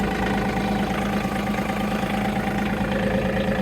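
A John Deere 2038R compact tractor engine runs at a steady idle, a continuous mid-low rumble held close and even throughout, with no start-up surge and no voices.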